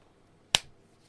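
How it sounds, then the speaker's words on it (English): A single sharp hand clap, close and crisp, standing alone in a quiet room with a short decaying tail. "All right, that's the clap I'm gonna use."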